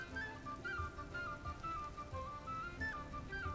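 Steady rain pattering on surfaces in the survival video game Vintage Story, a continuous even hiss with faint whistling tones above it.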